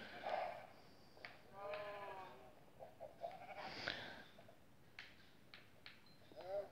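Minecraft sheep bleat in short, wavering calls, several scattered through the stretch, quiet and mixed with other game sounds and a low background hiss.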